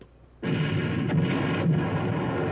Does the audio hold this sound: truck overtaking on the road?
no